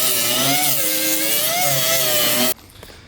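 Angle grinder cutting down old welds on a Nissan 240SX S13 drift car, a loud steady whine with slight pitch wobble running about two and a half seconds before cutting off abruptly into quiet rattles.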